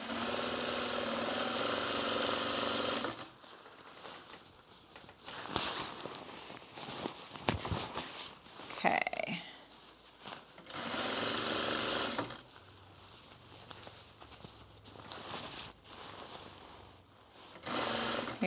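A sewing machine stitches fabric for a bomber jacket in bursts of fast, steady mechanical whirring, close and fairly loud, separated by quieter pauses with handling noises.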